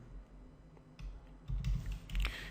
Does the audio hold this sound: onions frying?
no